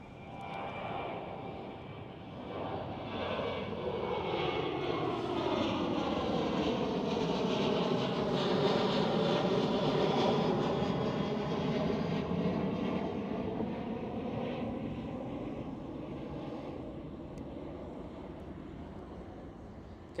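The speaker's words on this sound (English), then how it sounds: "KLM Boeing 777." A KLM Boeing 777 airliner at Amsterdam Schiphol airport roars past with a loud jet-engine rush that swells to a peak midway, whines with shifting tones, then fades slowly, heard alone for about twenty seconds.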